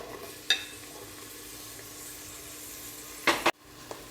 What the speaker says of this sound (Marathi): टॅमॅटो छान परतून झाला आहे